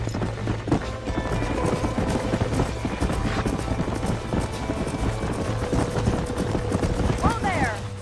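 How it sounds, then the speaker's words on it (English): Horse hooves clip-clop in the Western video game Red Dead Redemption, a steady trotting rhythm of repeated hoof falls over a low hum, with voices talking along the way. "These are fine horses."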